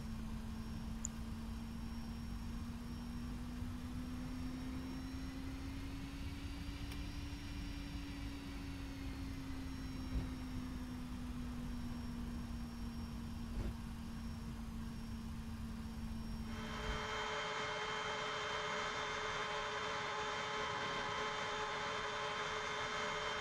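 A Boeing 767-300 airliner taxis in the X-Plane 10 flight simulator, its engines giving a steady, even drone with a faint whine riding on top. Near the end the drone shifts abruptly to a brighter, more broadband hum.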